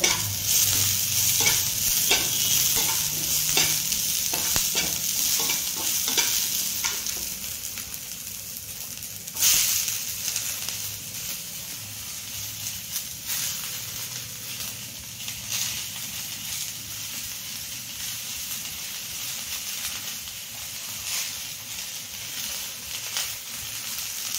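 Onions frying in a pan for fried rice made from leftover cooked rice, a steady close sizzle with repeated stirring scrapes throughout, one sharp burst near the middle, no voices.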